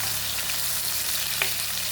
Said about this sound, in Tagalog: Ayan, gisa-gisa guys, adobong chicken na may Sprite.